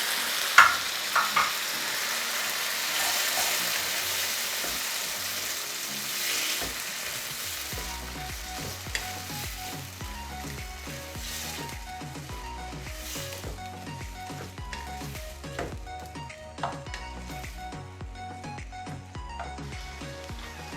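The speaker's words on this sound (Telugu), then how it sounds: "ఇలా ఆనియన్స్ అన్నీ బ్రౌన్ అయిన తర్వాత కట్ చేసుకుని టమాటాస్ వేసేయాలి" Onions fry in a pan with a bright, steady sizzle, and tomatoes go in partway through. The frying softens and grows wetter, and close stirring scrapes recur rhythmically with no talking.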